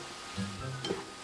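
Broccoli and cabbage sizzle in a small hot wok while stirred and tossed, a soft steady frying hiss with a couple of scraping clinks.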